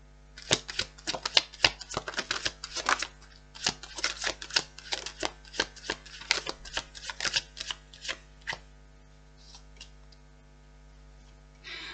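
Rapid riffling and flicking of cards, a quick irregular patter of crisp slaps over a steady low hum, trailing off near the end.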